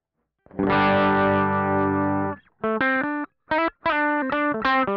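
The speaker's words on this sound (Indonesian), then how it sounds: "Coba kita dengar dulu dengan distorsi overdrive paling rendah." An electric guitar played through a Laney Black Country Customs overdrive pedal at its lowest gain, first a long sustained chord, then several short choppy strummed stabs, slightly gritty.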